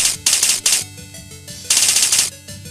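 Rapid bursts of synthetic automatic gunfire from a simple GameMaker game, two clusters of crisp rattling shots separated by a quieter stretch with faint tonal game sounds.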